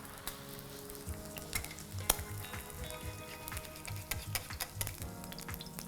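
Egg frying in a pan, a steady crackling sizzle with irregular spits and pops and occasional clinks of a spoon, close by with no talking.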